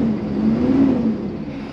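Cummins 300 diesel engine in a 2008 Tiffin Allegro 32BA Class A motorhome running, a brief steady low hum with a slight rise and fall.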